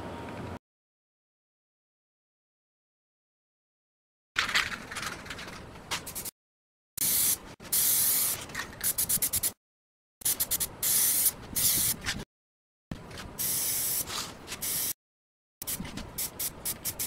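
Aerosol can spraying flat black Plasti Dip onto BMW E30 bottlecap-style wheels, with loud close hissing bursts of a second or two separated by short silent pauses.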